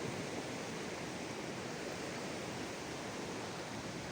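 A river flows near a shrine site, a faint, steady broadband rush of water that stays even throughout with no voices.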